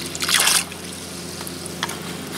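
White vinegar poured over old traps, with a brief close splashing pour at the start followed by soft trickling and drips over a low hum.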